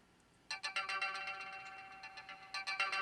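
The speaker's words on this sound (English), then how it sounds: "So this is the Rise resonator sound." Synth tone run through a Rise resonator, giving bright, ringing plucked notes in a quick melodic pattern that sits between melodic and percussive, fairly faint after a short quiet start.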